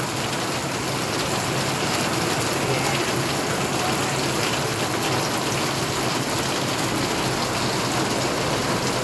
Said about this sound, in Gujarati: વરસાદ ચાલુ છે ત્યારે.